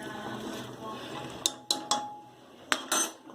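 A metal pressure cooker clanks as it is lifted off the stove and set down, with several sharp metallic knocks in quick succession over a faint background hum.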